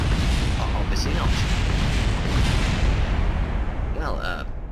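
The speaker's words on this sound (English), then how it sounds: "the explosions were quite loud" Rocket explosions in the video game Kerbal Space Program, a loud continuous roar of rumbling blasts and crackling with a brief whistling tone near the end.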